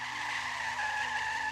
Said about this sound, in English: The car screeched